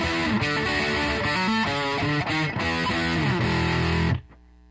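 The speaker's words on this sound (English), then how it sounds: "if you start turning this tight up, you can get some pretty cool, like, heavier sounds" A Les Paul electric guitar played through an Amptweaker TightFuzz Pro fuzz pedal with the tight control turned up: thick, heavily distorted chords and riffs ring out loud and close, then cut off sharply near the end, leaving a faint hum.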